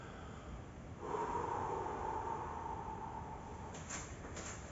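A long, deep exhale during an exercise workout for the chest and abs, one steady breath out lasting about three seconds, close and fairly quiet, followed by a couple of faint thuds.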